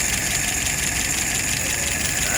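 Car engine idling steadily right after start-up, a continuous even rumble with a faint knocking texture, close and alone with no talk.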